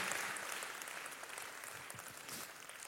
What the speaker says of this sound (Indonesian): Tepuk tangannya yang paling meriah buat Yesus Tuhan kita.